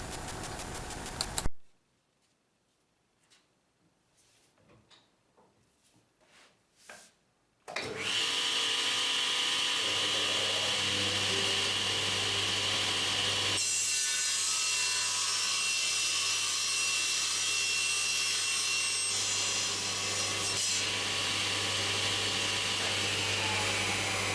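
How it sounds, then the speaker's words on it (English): A table saw cuts a wooden test piece on an adjustable crosscut sled: a brief knock, quiet scuffs, then the saw spins up into a loud, steady whine that holds for the rest of the clip. "A block is placed on the ruler, and then the test piece is moved against the block and the cut is made."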